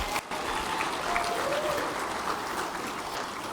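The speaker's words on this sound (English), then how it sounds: "ladies and gentlemen, can we please give a round of applause to Matt, who's doing an incredible job." A room full of guests at a clubs and community awards night claps steadily, a broad sustained round of applause heard from within the crowd.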